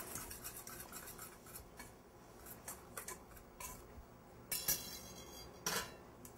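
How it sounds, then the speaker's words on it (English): Dry oat flour ingredients being whisked in a bowl, soft rhythmic scraping with light metallic clinks of the whisk against the bowl and two sharper taps near the end, quiet and close. "So I'm just going to whisk that together."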